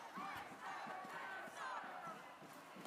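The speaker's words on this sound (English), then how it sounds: "Just so you understand how giant these crowds were." A huge protest crowd chants and shouts in unison outdoors in bitter minus-20-degree cold after a fatal ICE shooting. The roar of voices is dense and continuous, with rhythmic chanting swells, heard from some distance.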